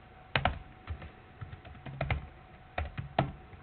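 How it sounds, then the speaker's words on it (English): Close, dry keystrokes on a computer keyboard as code is typed, in irregular bursts of clicks with short pauses, and no voices. "Go above your opt-in form code and type the following code."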